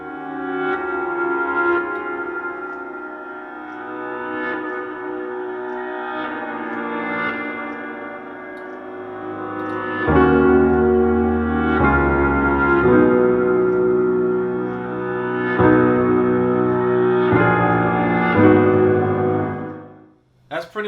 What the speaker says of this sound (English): So now I got a cool piano playing with the reverse effect going.